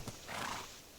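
A video game horse gives a short whinny over faint hoof clip-clops, a brief, fairly quiet burst with no talk.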